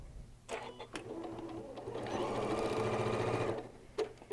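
A sewing machine stitches the seams of a fabric boxed pouch, running in short bursts and then a longer steady run where it goes back and forth over thicker overlapped seams; close and clear with no talk.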